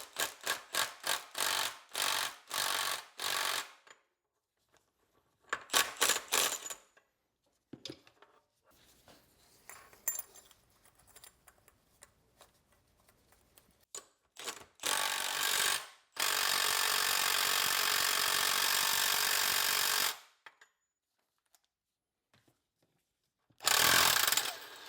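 A power tool with a 1.5 inch deep socket zips up a nut on a Cooper S three-synchro straight-cut gearbox: repeated short bursts of whirring, then a longer sustained run and a final burst, separated by quiet handling clatter.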